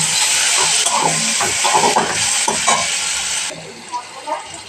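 Onion, garlic, chili and tomato frying in a pan: a loud, close, continuous sizzle with scraping stirring strokes, easing slightly near the end.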